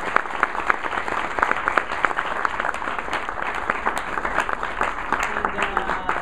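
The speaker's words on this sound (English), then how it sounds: "Please, let's give a big round of applause." An audience at a university book talk applauds at the end of the evening, producing loud, dense clapping throughout that holds steady without pause.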